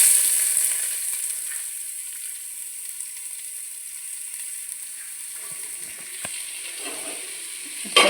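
Onion sizzles in hot coconut oil in a pan for a coastal-style silver fish curry, a steady bright frying hiss that starts loud and settles to a constant level, with a few faint stirring clicks near the end.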